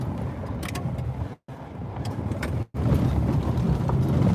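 A car rattles and rumbles along a washboard dirt road near a lake, steady low road roar with cabin vibration, briefly cut by two short gaps.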